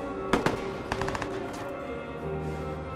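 Enemy gunfire in the Watch Dogs video game: several sharp shots crack out in quick bursts near the start, then a rattling volley, over a steady game background with no talk.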